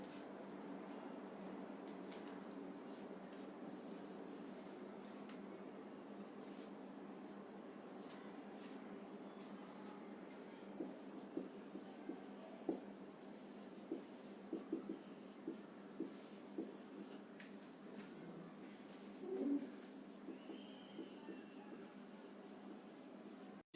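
Chalk or marker writing an example on a classroom board, a run of short faint scratching strokes over a steady low room hum, with no talk.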